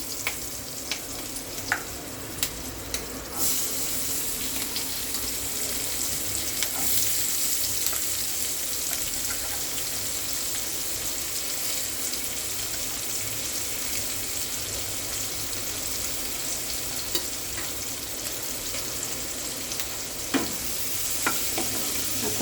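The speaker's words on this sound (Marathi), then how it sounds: "आणि लसूण मीठ हिरवी मिरची टाकलं अजून काय टाकायचं जिरे जिरे मोरे, सगळं टाकून परतायला लागले" Garlic, green chili, cumin and salt sautéing in hot oil for bitter gourd bhaji, a steady close sizzle with scraping stir strokes throughout and a few sharp clinks of the spoon against the pan.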